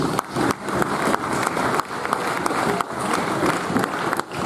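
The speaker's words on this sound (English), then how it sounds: "Big round of applause for our secretary, please." At a cricket league awards presentation, a crowd applauds loudly and continuously, many hands clapping in a dense, sustained roar with slight swells in intensity.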